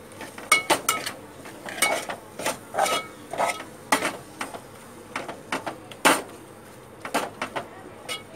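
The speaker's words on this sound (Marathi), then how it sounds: "परतून घेते." Cluster beans being sautéed in a pan, with repeated bright clinks and scrapes of a utensil stirring against the metal in an irregular rhythm, close and moderately loud, over a faint background hiss.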